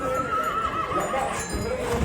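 Draft horses in a town parade at a market fair, a loud close whinny over steady clip-clopping hooves and crowd bustle.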